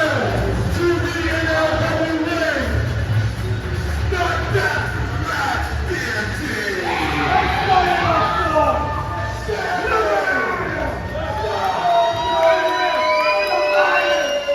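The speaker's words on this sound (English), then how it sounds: "As we hear the crowd go fucking ballistic, they go bananas" A large professional wrestling crowd roars and cheers wildly with shouts and whoops, loud and continuous throughout, voices rising and overlapping in a frenzied din.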